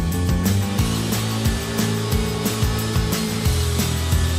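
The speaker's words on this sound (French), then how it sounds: "Utilisez une scie établie avec une lame à refendre bien affûtée pour refendre la première rangée" A table saw with a sharp rip blade buzzes steadily while ripping a hardwood flooring plank, its motor tone dipping rhythmically as the blade bites through wood, close and loud.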